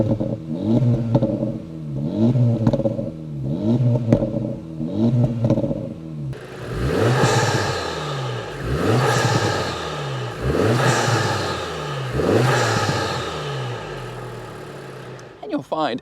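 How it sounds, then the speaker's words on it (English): A 2024 Acura Integra Type S with its resonator deleted revs repeatedly, the exhaust swelling and dropping in a steady rhythm of blips, then a louder, fuller stretch of revving close by with no talk over it. "Here's an exhaust clip."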